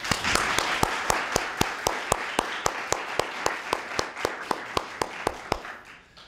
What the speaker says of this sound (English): I'd like to just round of applause for both teams